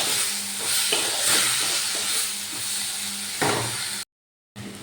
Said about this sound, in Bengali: এবার আমি পেঁপেগুলো দিয়ে ভালো করে মশলার সাথে আবার কষিয়ে নিচ্ছি